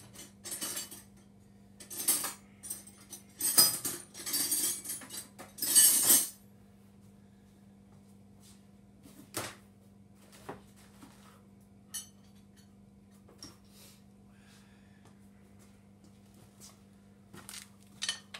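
A one-inch wrench clinking against metal while injectors are pulled from a 7.3 IDI diesel engine, with scattered sharp taps and scrapes over a steady low hum.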